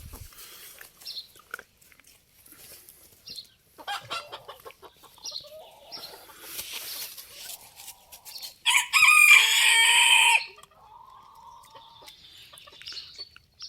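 Chickens cluck and squawk in scattered bursts, then a loud rooster crows once for about a second and a half before the clucking resumes.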